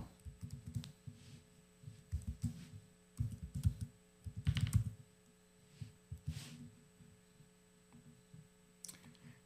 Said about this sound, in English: type in your email